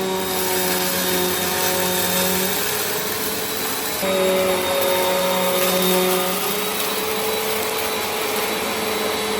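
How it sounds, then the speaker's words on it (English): A Bissell Cleanview Compact vacuum cleaner runs steadily on carpet with its brush roll spinning, a loud, continuous motor whine with slight pitch shifts throughout, close by and with no talking. "Now let's try the Bissell Cleanview Compact with real dust and dirt on a carpet."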